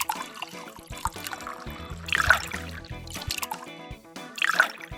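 Cedars Wild Gin Alternative poured from a bottle for a gin sour, a near liquid trickle and glug with two brighter splashing surges, heard alone without talk.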